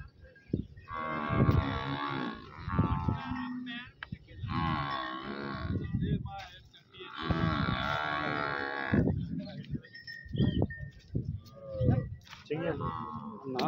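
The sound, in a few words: buffaloes at a cattle market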